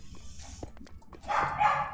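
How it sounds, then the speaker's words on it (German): Household dogs bark in the background, faint scattered noises at first, then a louder cluster of yapping barks toward the end, heard alone without talk. "im Hintergrund hört ihr auch gerade schön meine Hunde bellen"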